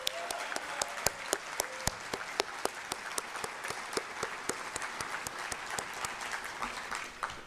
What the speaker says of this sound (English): let's give one more round of applause to my amazing running mate